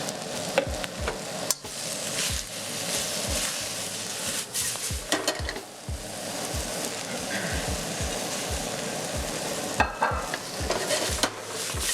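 Spinach and tofu stir-fried in an oiled pan: a continuous sizzle under repeated scraping and tossing strokes of a utensil against the pan, with occasional sharper metallic clinks.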